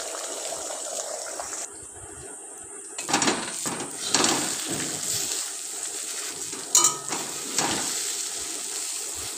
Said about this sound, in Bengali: এবার কড়ার তেলটা গরম হয়ে গেলে তাতে ডিমটা দিয়ে ওটা ভুজিয়ার মতো করে নেব।